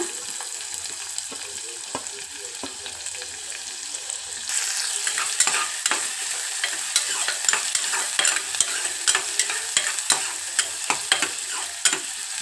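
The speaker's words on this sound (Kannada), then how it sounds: "ಅದಕ್ಕೆ ಒಂದೆರಡು ಜೀರಿಗೆ ಮತ್ತು ಕಟ್ ಮಾಡಿ ಇಟ್ಕೊಂಡಿದ್ವಲ್ಲ ಆನಿಯನ್ ಹಾಕೋಣ" Cumin and chopped onion hit hot oil and sizzle loudly, the frying hiss jumping up partway through and holding steady with frequent scraping stirs of a spoon in the pan, no voices over it.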